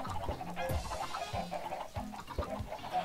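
Chickens clucking in the video game Minecraft: repeated short clucks over a busy layer of game sound and background music, continuous and fairly close.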